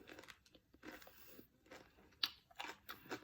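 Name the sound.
biting into crunchy turon, Filipino dessert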